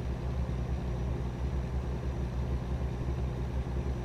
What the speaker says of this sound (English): like the truck sounds, driving, I like it